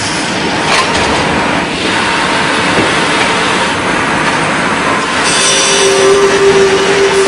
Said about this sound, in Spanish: Unos empujadores acercan los tableros a unas sierras circulares para escuadrar el